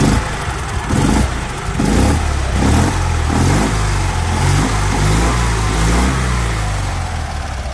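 An all-original Fiat 126p with its 650 cc, roughly 24 horsepower engine revs in repeated rising bursts, then settles into a rough, loud, throbbing run close by.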